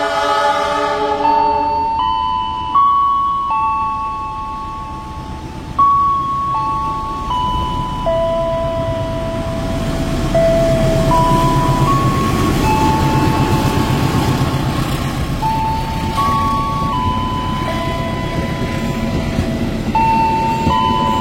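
An Argo Bromo Anggrek train passes on track 2 at an Indonesian station, a steady rumbling roll of wheels and engine beneath a melodic chime-like announcement tone sequence, moderately loud and continuous.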